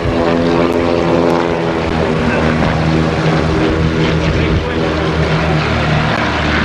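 Eagles aerobatic team propeller airplanes taking off at the 1986 Daytona Beach Skyfest, a loud, steady engine drone with a dense harmonic buzz that holds constant throughout.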